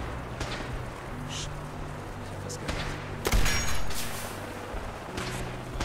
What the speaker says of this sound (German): Von hier kommen Schüsse zurück.